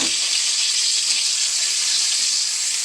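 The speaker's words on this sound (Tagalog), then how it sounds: "Magigisa na po tayo ng bawang." Garlic sautéing in hot oil in a pan, the start of a squid adobo, giving a steady, close, loud sizzle that holds evenly throughout with no talking.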